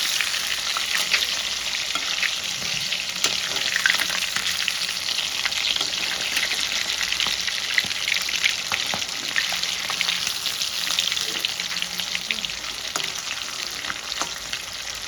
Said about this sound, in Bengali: মাছগুলো কিন্তু লাল লাল করে ভেজে নেব